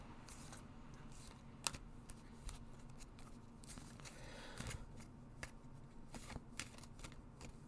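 Tarot cards being shuffled by hand, giving quiet, rapid flicking riffles and soft slaps in irregular bursts, close up, with no talk.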